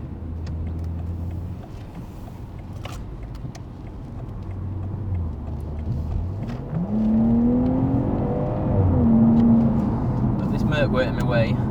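Exhaust and engine note of a BMW 540i 5 Series driving on a wet road, a low steady drone that rises in pitch as the car accelerates through the gears, heard from inside a well-insulated cabin.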